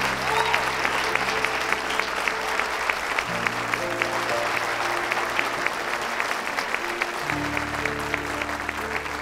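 Sustained applause from an audience welcoming a speaker onto a stage, dense and steady clapping over a low musical bed throughout.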